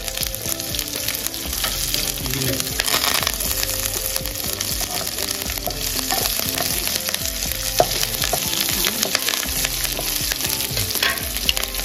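Green chillies and curry leaves crackle and sizzle in hot oil, a continuous spitting hiss with stirring scrapes and small pops, close and steady with no talking.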